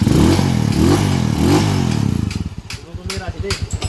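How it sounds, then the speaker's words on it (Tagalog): A 200cc converted motorcycle engine runs with a noisy timing gear, a loud rapid clattering idle that slows into distinct uneven pulses, heard close up. "Maingay ang timing gear na kinabit natin, kaya palitan natin."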